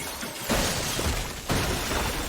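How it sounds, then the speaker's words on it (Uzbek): A statue shattering in an animated series, two loud bursts of crashing, breaking debris about a second apart, each followed by a sustained clatter and no speech. "Voy, Madheril haykalini sindirding-ku."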